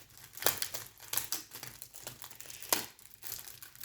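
Paper crinkling and tearing in short bursts, close up, with several sharp rips as an envelope is opened; no talking.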